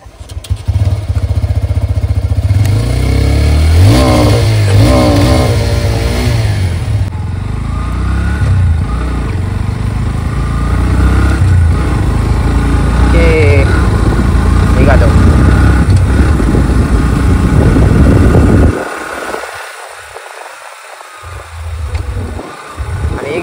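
A new motorcycle on its first ride runs loud and close, its engine droning and revving over road and wind noise with brief voices, then dropping away to quieter rumble near the end.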